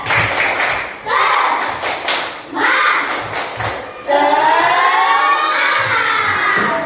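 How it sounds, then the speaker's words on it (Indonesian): A classroom of children doing a rhythmic spirit clapping chant, with bursts of clapping and thumps under loud group voices chanting together, lively and close. "Oke, tepuk semangat."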